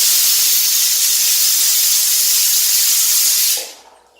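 A pressure cooker with mutton inside vents a loud, steady hiss of steam that carries on without a break for about three and a half seconds, then cuts off sharply.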